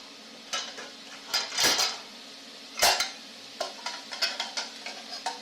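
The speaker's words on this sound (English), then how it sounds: "I'm going to put these broccoli florets in a bowl." Broccoli florets dropped into a bowl in a home kitchen, a few distinct clattering bursts with scattered lighter ticks and knocks, close and fairly quiet, without talk.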